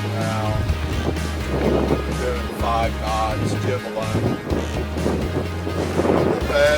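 Strong wind of about 22 knots buffets the microphone aboard a Catalina 42 under sail, a continuous loud roar with low rumbling gusts. Water sloshes and a faint voice is heard underneath.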